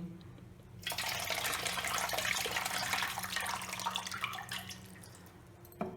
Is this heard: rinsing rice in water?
yes